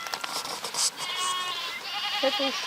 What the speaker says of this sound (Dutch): Wat een mekker.